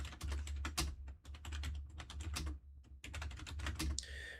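Computer keyboard typing in a severe-weather broadcast studio, a steady run of quick, close key clatter in dense bursts with brief pauses, heard on its own without talk.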